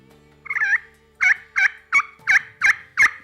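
A slate turkey call yelps in a steady rhythm: one drawn-out note, then six sharp evenly spaced yelps, loud and close, with no talking.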